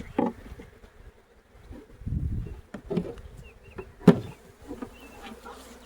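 Honey bee swarm buzzing drones steadily at close range, with scattered louder thumps and rustles breaking through the hum.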